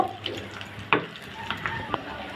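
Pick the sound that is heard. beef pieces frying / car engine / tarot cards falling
beef pieces frying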